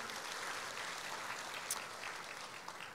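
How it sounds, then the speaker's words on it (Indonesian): A church congregation gives warm applause at a sermon, a faint, steady wash of many hands clapping heard from a distance for a few seconds, with no voices over it. "yang belajar sesuatu boleh kasih tepuk tangan yang meriah buat Tuhan"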